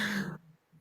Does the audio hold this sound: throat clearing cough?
yes